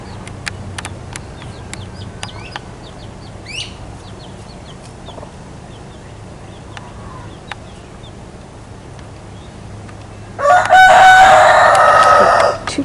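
Farmyard with a mother hen and her chicks: soft scattered clucks and chirps over a low background hum, ending in a loud rooster crow near the close.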